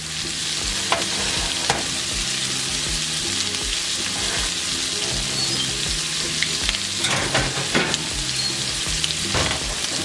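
Shrimp and other seafood fry in hot oil, browning on the second side, with a loud, steady sizzle and occasional clinks and scrapes of stirring throughout. Nobody speaks.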